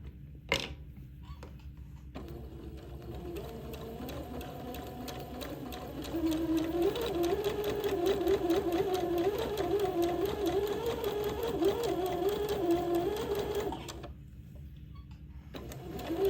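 A sewing machine runs close by, stitching basting threads onto a Christmas dress sleeve. A steady whirring hum speeds up in the middle, then stops, and starts again at the end.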